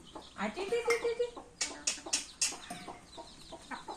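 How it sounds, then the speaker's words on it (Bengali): A domestic hen clucks in short, close calls at a farmyard home while a person talks and makes calling sounds over it. "এরা তো মুরগটারে দেখো কি সাহস"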